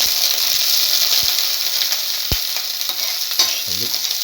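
Shallots frying in about 10 ml of hot oil in a pan for a bottle gourd and poached egg stew, a steady close sizzle with a few stirring scrapes and clinks.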